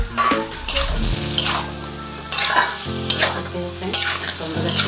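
Drumsticks and potatoes sizzle in a frying pan while being stirred, with repeated scraping strokes of a utensil against the pan over steady frying.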